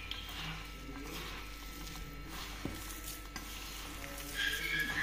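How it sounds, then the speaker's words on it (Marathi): A spoon stirs sambar powder into lauki vada batter made from grated bottle gourd and mung, urad and barbatti dal, giving soft, faint scraping and squelching at close range, with no one speaking. "आणि सांबार, छान मिक्स करून घ्यायचं"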